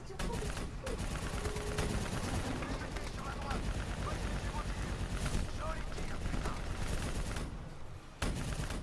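Continuous gunfire in the video game Black Ops 3, dense rapid bursts of shots layered with explosions and engine rumble, loud and unbroken, with a short dip near the end.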